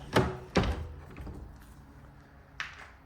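A couple of solid thuds of a door being closed nearby in an abandoned Tudor-style mansion, followed by a quieter knock a few seconds later, with faint background ambience.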